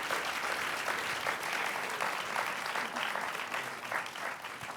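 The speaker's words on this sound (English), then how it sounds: "Let's give a round of applause to all our Girl Geek panelists." Audience applause for a panel of women in technology at an evening event, a steady wash of many hands clapping throughout, moderately distant and even in level, with no talk over it.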